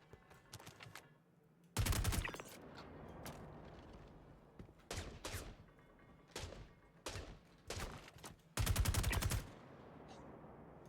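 Bursts of gunfire in the Star Citizen video game, two long rapid volleys standing out among shorter scattered shots and thuds, fairly loud against a low ambient bed.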